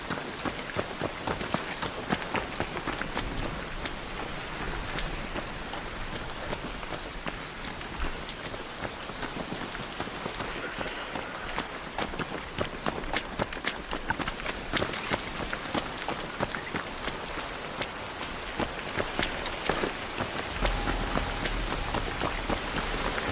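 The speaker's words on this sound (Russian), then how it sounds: "Опять дождь." Steady rain pouring down in the video game Arc Raiders, a dense, even hiss of drops spattering on surfaces that carries on without a break throughout.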